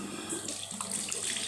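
Lukewarm water runs steadily from a tap into a sink for washing the face, a continuous close splashing hiss with small shifts as the flow is disturbed.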